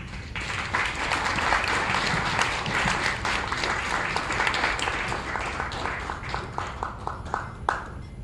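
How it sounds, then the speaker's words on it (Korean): Audience applause at a Korean academic presentation welcoming a professor, fairly quiet and steady at first, thinning toward the end into scattered individual claps. "큰 박수로 맞이해 주십시오"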